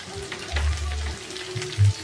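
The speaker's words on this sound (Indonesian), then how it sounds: "kita siapkan wajan, tambahkan minyak, kita akan goreng terlebih dahulu terinya" Anchovies (teri) fry in hot oil in a wok, giving a soft, steady sizzling hiss with occasional low thumps from stirring, and no talking over it.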